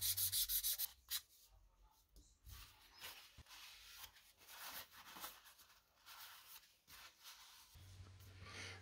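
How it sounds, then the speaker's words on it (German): Rough, scratchy sanding of a brass tube with coarse sandpaper in repeated back-and-forth strokes, close by, with short pauses between bursts and no talking. "Dann schleife ich das Messingröhrchen mit grobem Schleifpapier an, bis es metallisch blank ist"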